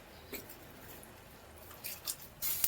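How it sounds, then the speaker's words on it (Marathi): Biryani rice poured into a pot of boiling water seasoned with black cardamom, star anise, green cardamom, bay leaf and cumin gives a few soft, brief splashing bursts over a quiet bubbling background. "त्याच्यामध्ये हा राईस सोडायचा."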